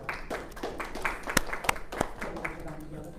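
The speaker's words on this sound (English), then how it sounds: "And another round of applause for Rich for actually hosting this event." An audience claps for the host at a Federalist Society event at Pace Law School, a scattered round of applause with sharp individual claps, heard under speech.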